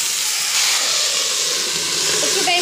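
Leafy greens sizzle loudly in a pan of already fried potatoes, with chopped chillies on top, a steady broadband hiss that fills the whole moment without pause.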